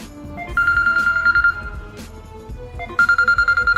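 A telephone rings with a bright electronic trill in two bursts separated by a pause, loud and close, with no talk over it.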